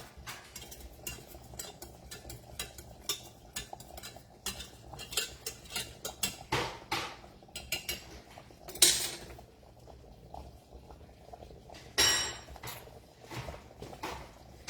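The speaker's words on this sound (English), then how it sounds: "Just keep stirring your grits." Grits being stirred in a pot at home, a spoon scraping and clinking against the pot in irregular close strokes with a few sharper knocks and no talking.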